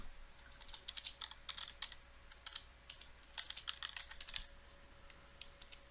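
Quiet, rapid typing on a computer keyboard. Bursts of key clicks come in an uneven rhythm with short pauses between them.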